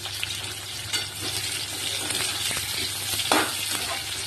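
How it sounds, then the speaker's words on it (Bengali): Chopped onions sizzle steadily in a hot wok as they are stirred, with a close, continuous frying hiss and occasional scraping and stirring sounds over it. "এর মধ্যে এবার আমি পেঁয়াজটা দিয়ে দেবো, পেঁয়াজ কুচনোটা দিয়ে ভালো করে নেড়ে চেড়ে ভেজে নেবো।"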